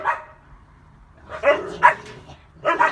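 Several dogs bark in the background in short, loud bursts, with a yip or two and quiet gaps between volleys.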